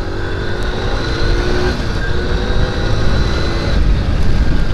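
An 11-year-old Yamaha Libero G5 motorcycle pulls hard in second gear, its engine note loud, steady and close throughout.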